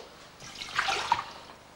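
Water poured into a bowl while measuring for a dough, a short close splashing pour that swells and fades within a second or two, alone without talk.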